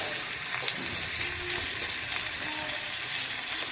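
Ginger-garlic masala with chillies and bay leaves frying in a pan, a steady close sizzle that hisses evenly throughout without a break, no voices.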